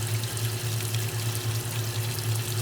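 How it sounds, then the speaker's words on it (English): Water runs in a steady stream into a washing machine tub as it refills for the rinse on cold with mediocre water pressure, a constant splashing hiss over a low mechanical hum, with no one speaking. "we will begin refilling for rinse with the mediocre water pressure of cold"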